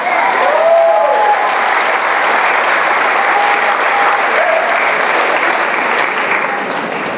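Sustained applause from an audience of Memphis activists at a political talk, steady and dense for the whole stretch, with a few cheers or whoops rising faintly above the clapping.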